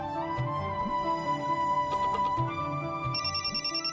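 Phone ringtone playing a repeating melodic tone pattern, clear and close, brief, with no voices over it.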